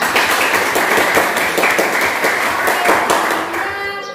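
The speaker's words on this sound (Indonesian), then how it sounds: "Kita berikan apresiasi dengan tepukan tangan." A classroom full of people clapping after a group performance, steady dense applause that fades slightly near the end.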